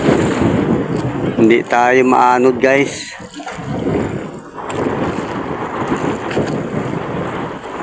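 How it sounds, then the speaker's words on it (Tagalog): Strong wind buffets a small fishing boat moored to floating fish aggregating rafts at sea, a constant roar of gusts and microphone rumble while someone talks over it. "Malakas ang hangin."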